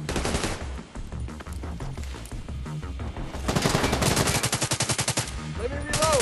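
Sustained automatic weapon fire in the video game The Division 2, loud rapid bursts of shots close by, one long stretch of rattling fire with brief gaps and other game effects behind.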